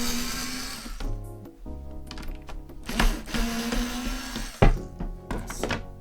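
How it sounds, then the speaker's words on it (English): A power screwdriver backs screws out of the molding on a coffee table under assembly, whirring in bursts with clunks and knocks of wood between runs, close and busy. "Looks like we're unscrewing it. Unscrewing it again."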